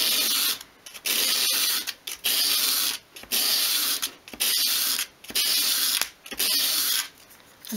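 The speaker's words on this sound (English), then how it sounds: "hold the piece against a sheet of sandpaper at a 45 degree angle and just sweep it towards you" A small wood piece is swept repeatedly across a sandpaper sheet at an angle to bevel it, giving loud, rhythmic rasping strokes about one per second, each separated by a short pause.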